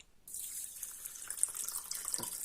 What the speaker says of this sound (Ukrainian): Трошки води додала. Так, холодної води.